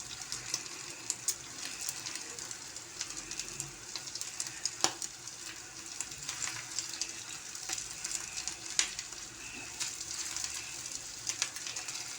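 Meatballs sizzle and crackle steadily in hot oil, with occasional sharper pops and spatters throughout.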